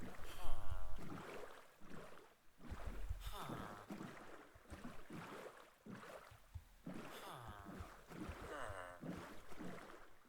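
A boat glides across water in Minecraft, its soft sloshing running steadily beneath continuous conversation between players.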